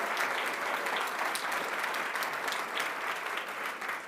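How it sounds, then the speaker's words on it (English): Sustained audience applause fills a college health center ribbon cutting ceremony, a dense even patter of many hands clapping at steady volume throughout. "if you wouldn't mind giving her another round of applause"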